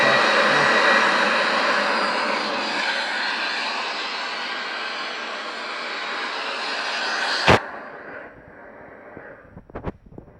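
Jet engine of an El Al Boeing 737-800 in Microsoft Flight Simulator X, a steady loud broadband roar for about seven seconds, then a sharp click as it cuts to a much quieter hum with a few faint ticks.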